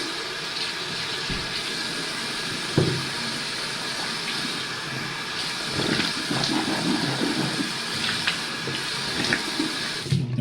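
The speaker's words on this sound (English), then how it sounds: "Gonna rinse my mouth out now." Tap water runs steadily into a bathroom sink during a late-evening mouth rinse after brushing teeth, a continuous close splashing hiss with a few small clunks and sloshes, no talking.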